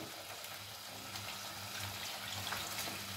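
Water poured into a pan with tomato, garlic and oil, a steady rushing, gushing pour with a light sizzle, fairly quiet and continuous throughout, with no talking.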